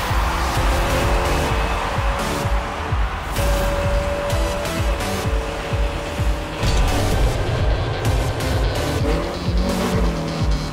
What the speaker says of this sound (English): The car from Rocket League for number 3.